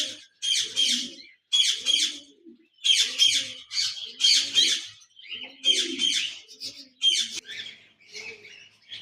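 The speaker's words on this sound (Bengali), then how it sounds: "এখানে দেখতে পাচ্ছেন এক জোড়া কোকাটেল পাখি রয়েছে" A caged pair of cockatiels, including an albino red-eyed male, squawk loudly and close by in repeated harsh bursts with short pauses between them, and no other sound intrudes.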